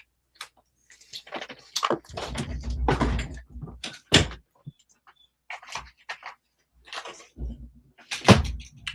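Indoor knocks and thumps of a bedroom door being moved and shut, several scattered impacts with rustling in between, nearby and fairly loud.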